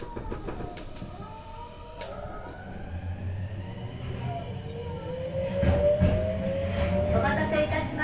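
Tokyo Metro Marunouchi Line subway train running with a rumbling rolling roar and rising electric motor whine, wheels clacking, as a recorded announcement plays over it.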